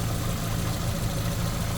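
A 2008 Skoda Octavia with a 1.6 petrol MPI engine running on LPG idles close by, a steady low rumbling hum with even pulsing and no voices.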